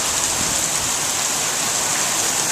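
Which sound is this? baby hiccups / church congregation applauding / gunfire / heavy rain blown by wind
heavy rain blown by wind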